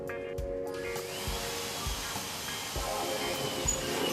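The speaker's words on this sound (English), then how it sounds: "Drill hole number 1." Power drill boring a hole in a wall for an electrical socket, a steady whirring hum with faint low thumps, fairly close and continuous.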